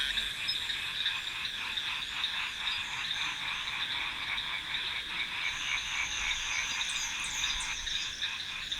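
Many frogs croak together in a Madagascar rainforest, a dense continuous chorus of shrill repeated calls at steady loudness, with a few higher chirps standing out near the end.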